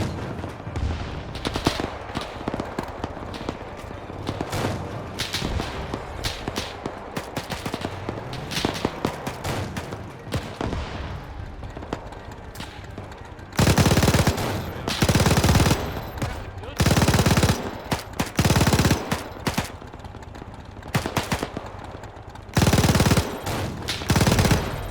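Loud gunfire in ARMA 3 with a WW2 mod, sustained machine-gun bursts and rapid shots at first, then a string of separate heavy bursts with brief gaps between them, with no talk over it.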